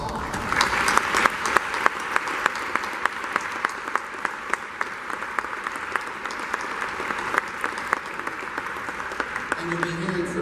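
City officials stand to be recognized at a one-year anniversary gathering after a disaster in Jacksonville, drawing sustained crowd applause, many hands clapping in an even roar for about ten seconds, with faint voices near the end.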